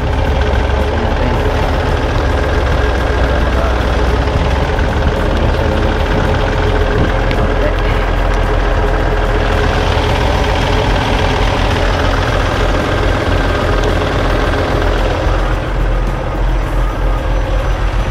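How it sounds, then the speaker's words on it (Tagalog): A truck engine idles loudly and steadily at close range during loading of a twelve-by-sixty skid shack, a continuous deep rumble with an even mechanical drone and no speech. "Para hindi sobrang init sa makina ng truck."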